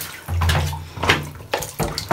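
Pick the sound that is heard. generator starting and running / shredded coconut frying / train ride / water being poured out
water being poured out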